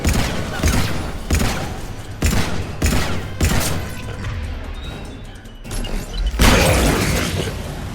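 Heavy gunfire and explosive impacts in Mass Effect 3, loud booming bursts and crashing hits arriving in irregular clusters, close and dense, with no voices over them.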